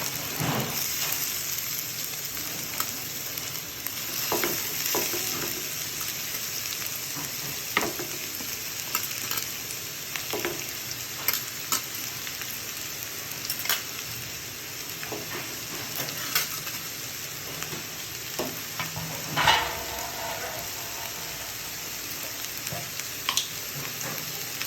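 Food fries in oil in a pan with a steady, crackling sizzle, while a utensil stirs and scrapes against the pan in repeated strokes. No one speaks.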